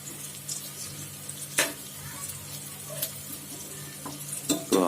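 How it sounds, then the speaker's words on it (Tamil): Onions frying in a pan for biryani give a soft, steady sizzle, broken by a few sharp clinks and scrapes of stirring, fairly faint and close with little talk. "இப்போ ஆனியன் நல்லா கோல்டன் கலரில் வந்துருச்சு."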